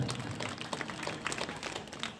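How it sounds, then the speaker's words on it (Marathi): Crowd clapping at a kirtan during a week-long Harinam Saptah, a dense steady patter of many hands spread across the whole stretch at moderate level, with no voices over it. "तुम्ही तुमच्यासाठी एकदा टाळ्या वाजवा."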